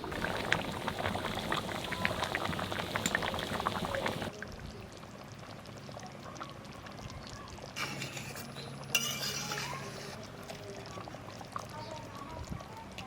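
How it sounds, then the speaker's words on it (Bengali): Hilsa fish curry simmers in a pot as raw mustard oil goes in, a soft bubbling and hissing that is louder at first, then drops to a quiet simmer with brief bursts of sizzle and clinks. "মাছের ঝোল রান্না হয়ে গেছে, আর একটু কাঁচা সরষের তেল দিয়ে"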